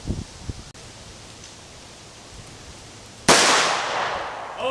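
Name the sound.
TISAS M1911A1 pistol gunshot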